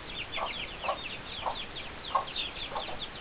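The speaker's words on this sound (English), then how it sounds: "I believe she's a game hen." A game hen clucks in a soft, irregular series of short calls, close by, with no talking.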